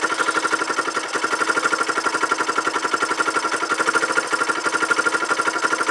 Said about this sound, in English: It's idling, but only just.